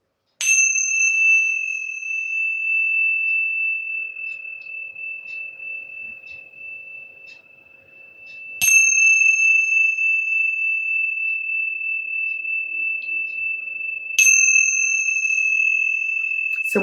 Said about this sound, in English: These are sometimes called tingshas or temple bells, and this is the beautiful sound that they make.